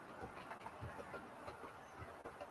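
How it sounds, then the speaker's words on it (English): A model train runs along a layout's test track on uneven, not-yet-fixed boards, giving a steady, continuous rolling rumble with faint clicking from the rails that keeps going throughout at a moderate level. "it's nice to see sort of train snaking through"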